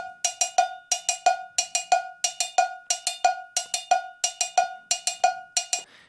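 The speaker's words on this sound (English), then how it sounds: "It's a cowbell groove." A cowbell percussion groove repeats steadily, with bright metallic clanks in tight, syncopated clusters, close and clear with no other sounds.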